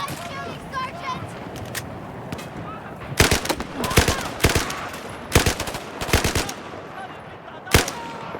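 Bursts of automatic weapon fire and single gunshots crack loudly in Battlefield 4 combat, clustered in repeated volleys over a continuous backdrop of battle noise, with voices calling out in between.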